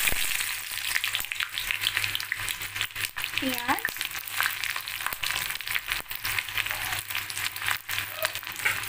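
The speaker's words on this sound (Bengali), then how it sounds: "এবারে ফ্রাইড রাইসের জন্য আমি এই ভেজিসগুলোকে ফ্রাই করব" Onions and mixed vegetables fry in white oil in a wok, giving a steady, dense sizzle that holds at close range for the whole stretch, with a few brief knocks and stirring scrapes on top.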